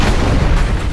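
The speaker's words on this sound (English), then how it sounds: "Oh, more cannons." Cannon fire in the video game Dungeon Siege III, heard as a loud, dense, continuous low rumble of booming blasts that stays steady for about a second with no talk over it.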